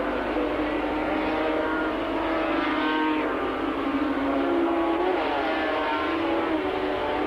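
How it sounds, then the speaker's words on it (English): 250cc production motorcycles racing past on a track at Calder in 1985, a continuous loud buzzing engine roar that swells and shifts in pitch as the bikes pass, with no speech. "Number 24 tucking down and actually using the slipstream of number 20, John Chido."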